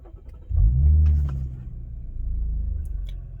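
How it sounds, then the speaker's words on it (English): A car's engine cranks and catches with a loud low rumble, revs briefly, then settles into a steady idle close by. "All right, guys, so the car is off. Let's turn it on, and I'll show you the needle sweep."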